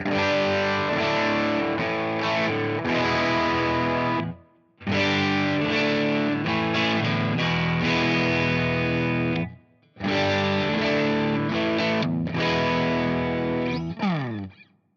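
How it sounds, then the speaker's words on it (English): Electric guitar on an HSS partscaster (Screamin' Demon and Area 61 pickups) with mild, gritty edge-of-breakup overdrive plays chords and runs in three sustained phrases separated by short pauses, ending on a bending note. "here's a little more hair on kind of a edge of breakup sound"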